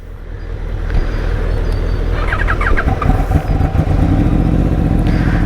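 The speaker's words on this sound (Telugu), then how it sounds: "bikes will be going through the service road" A motorcycle rides along a service road, its engine drone and road rumble loud and close throughout, with wind buffeting and a few faint chirps over the steady noise.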